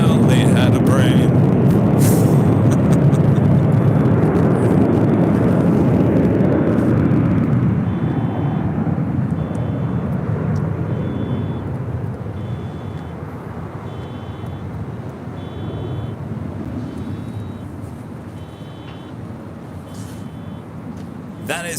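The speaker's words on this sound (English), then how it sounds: "That is United Airlines flight 2120A heading to Vancouver on this A319, 25 years of age." A 25-year-old United Airlines Airbus A319 departs LAX for Vancouver with a loud, broad jet roar that swells early and slowly fades as the aircraft moves away, while someone talks over it.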